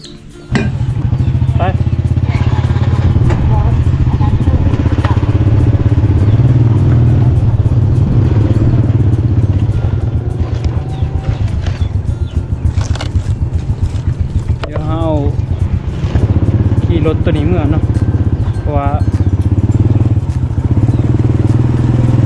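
A motorcycle engine runs loud and steady throughout as it is ridden on a rural trip, a continuous low drone with some clatter, while people talk over it.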